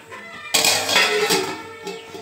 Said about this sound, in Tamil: இப்போ இதை ஒரு தட்டு போட்டு மூடிடலாம்